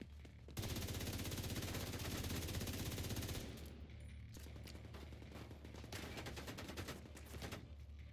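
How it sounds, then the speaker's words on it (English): Rapid automatic gunfire in The Division 2 as a player shoots at drones, a long sustained burst followed by shorter volleys, loud and close, with no talk over it. "You have to hit them with half a mag in order to disable them"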